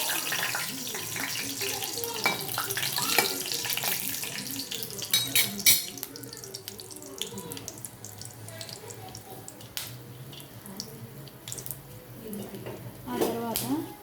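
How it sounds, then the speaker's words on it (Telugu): Peanuts frying in a hot pan for curry leaf rice, a steady close sizzle and hiss with occasional clinks, while a voice talks over it. "బాగా వేయించుకోవాలి."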